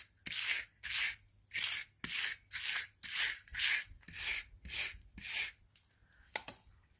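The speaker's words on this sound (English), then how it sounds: "scrubbing really hard with a big metal brush" A big metal brush scrubs a barn wall hard, making about nine rhythmic, harsh scraping strokes close by. A couple of faint knocks follow at the end.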